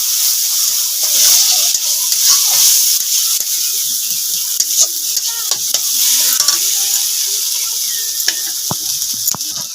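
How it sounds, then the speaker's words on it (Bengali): Spice paste for chicken curry is stirred and fried in a pan, giving a loud, steady hiss of sizzling with frequent spoon clinks and scrapes close by, and no talking over it. "এবার ওই পুরো মশলাটাকে কষবে কষে তারপরে চিকেনটা দেওয়া হবে"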